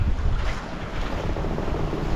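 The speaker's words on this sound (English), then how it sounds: "still have big waves" Big ocean waves surge around a 28ft sailboat at sea, a loud continuous rush of water mixed with heavy wind buffeting the microphone, no voices.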